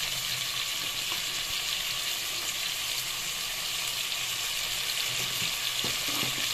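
Mutton frying hard in hot oil over a high gas flame with turmeric powder and salt, for a Rajasthani-style curry, gives a steady, dense, close sizzle that crackles without a break and has no talking over it.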